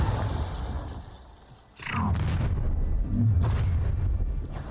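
A Bombarda blast spell in Hogwarts Legacy goes off with a sudden booming burst and a crackling, shattering tail, followed by a second rumbling impact amid ongoing battle noise; no one speaks.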